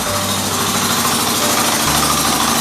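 1978 John Deere 208 lawn tractor with shifting gears, running after sitting three years, throttle needing adjustment: a steady, close, loud idle with a low, knocking pulse throughout.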